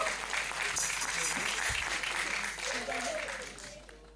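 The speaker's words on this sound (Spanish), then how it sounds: "Un fuerte aplauso para él." Applause greets a performer at a televised talent show, a dense crowd clapping that holds steady and then fades toward the end, with faint voices mixed in.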